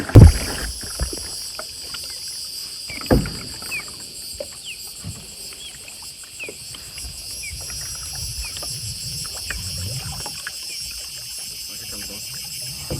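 A kayak paddled slowly on calm water among manatees, with soft splashes and drips from the paddle strokes, a sharper splash near the start, insects and birds faint in the background.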